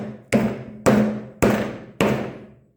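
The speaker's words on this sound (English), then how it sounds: "tap it with the hammer" Four sharp hammer taps on wooden bowtie inlays in a wood and epoxy desk top, evenly spaced about half a second apart, each a solid knock with a short ringing decay, close and clear.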